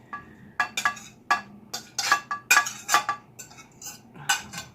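Sharp crunchy clatter in irregular bursts of bok choy being eaten, close and fairly loud with quiet gaps between.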